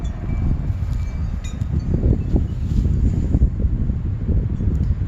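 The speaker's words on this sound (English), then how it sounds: "Here's a little gust of wind." A gust of wind blowing through a newly transplanted tree, low rumbling buffeting with light rustling, steady and moderately loud outdoors.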